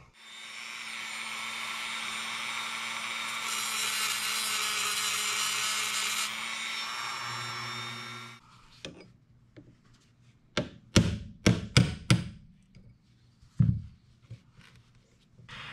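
A grinder is worked against the rivets on a 1963 Chevy Corvair window, running as a steady whine for about eight seconds, then stopping. Sharp clanks and taps follow, like parts being handled.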